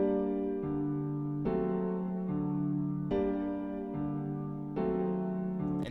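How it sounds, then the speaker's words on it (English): Melody in FL Studio slowed to half time with the Gross Beat plugin, giving sustained synth chords that change in slow, evenly spaced steps, heard alone and fairly loud. "I'm going to open up gross beat, and I'm going to half time it."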